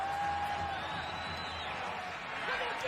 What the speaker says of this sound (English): And the crowd producing a guttural roar.